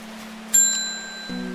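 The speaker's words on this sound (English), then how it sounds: "I accidentally hit the bell" A bell struck in the video game Strange Horticulture, one bright ringing chime that decays slowly over a quiet low hum, followed by a second lower tonal sound near the end, with no talk.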